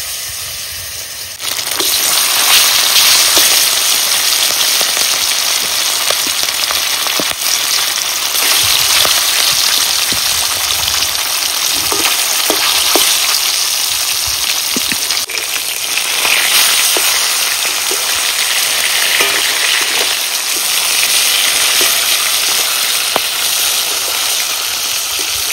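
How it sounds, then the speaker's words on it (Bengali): Silver carp fillets fry in hot oil in a wok, giving a loud, steady sizzle with crackling pops, which starts abruptly after a short quieter moment and continues unbroken. "তেল গরম হয়ে গেছে, মাছ ভাজা দিয়ে দেব।"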